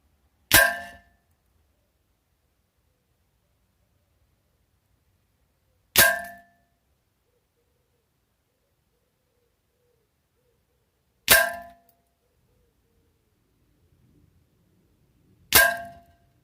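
Four sharp rifle shots fired through a Vector Optics Marksman 10x44 scoped rifle at targets, each a loud crack spaced roughly five seconds apart with silence between.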